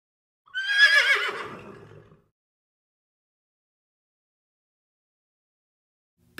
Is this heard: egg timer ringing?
no